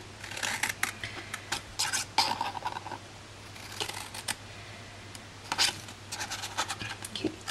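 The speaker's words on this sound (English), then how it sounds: "and then up there, snip, and snip." Scissors snip card paper while a gift box is being made, with a run of sharp cutting clicks and rustles, several quick cuts in bursts, close and fairly quiet, with a low steady hum beneath.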